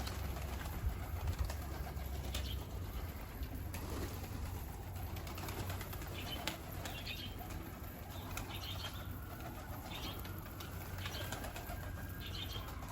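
Mardin pigeons nearby, with fluttering wing flaps and soft cooing over a steady background hum, no talking.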